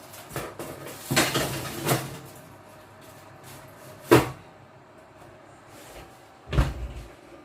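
Cooking pot of pinakbet with pork belly placed into a preheated oven in a home kitchen: several bangs, knocks and oven door thuds spaced apart, separated by quiet.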